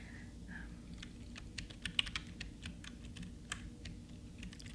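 Typing on a soft black Logitech keyboard: a steady run of quick, soft clicks and key taps at moderate distance, irregular rhythm with a few sharper strokes, over a low background hum with no voices.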